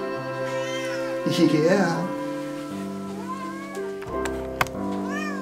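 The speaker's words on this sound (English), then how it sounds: "She's a little kitty." A small kitten meows in high, wavering cries over a steady harmonic tone, close and clear, and a person speaks briefly near the end.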